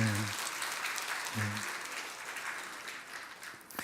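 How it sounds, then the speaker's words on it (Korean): A church congregation claps during a Sunday worship service, a steady wash of applause that carries through the whole stretch, with a voice briefly speaking over it twice. "오래간만에 왔는데 박수 안 칩니까?"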